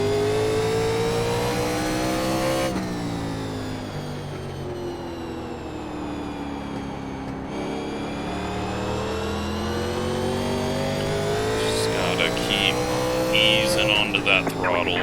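A 1987 NASCAR Legends race car in iRacing at Martinsville Speedway revs loudly under throttle, its engine note climbing and dropping through gear changes in a steady, close, continuous roar.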